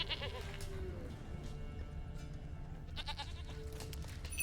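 A goat bleats in The Witcher 3: Wild Hunt, with a wavering cry at the start and another, brighter one about three seconds later, over a low, soft ambient background.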